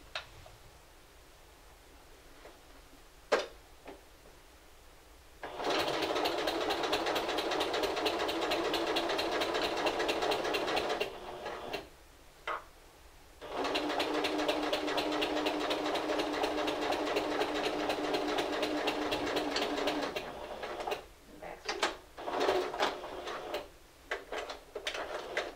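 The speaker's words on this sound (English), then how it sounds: "And I'm just going to sew all the way down to the bottom." A sewing machine stitches a seam in two long continuous bursts of rapid mechanical whirring, separated by a short pause and followed by a few brief stitching spurts and clicks; no one speaks.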